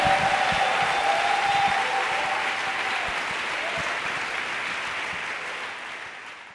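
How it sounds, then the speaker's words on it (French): A church congregation applauds as a clap offering during a French-English sermon, producing a broad, sustained wash of clapping that fades gently toward the end, with a faint tone briefly audible early on. "A clap offering to Jesus Christ."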